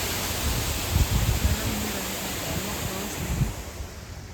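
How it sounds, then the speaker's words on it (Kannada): A stream's flowing water makes a steady, close rushing wash, with faint low voices murmuring underneath partway through. "ನೀರು ಹರಿತಾ ಇದೆ"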